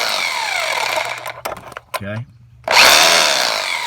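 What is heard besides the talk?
hammer gun vibrating fan clutch off Duramax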